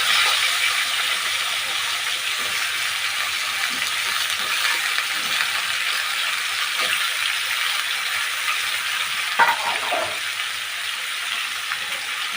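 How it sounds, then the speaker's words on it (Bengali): Mixed vegetables fry together in a pan, giving a steady, close sizzle with a soft crackle that holds for the whole stretch, with brief stirring scrapes near the end. "আমি এবার একে একে করে সব সবজিগুলো একসঙ্গে ভেজে নেব"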